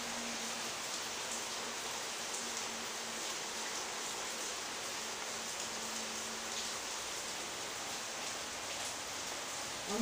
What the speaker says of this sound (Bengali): বাইরে বৃষ্টি হয়ে যাচ্ছে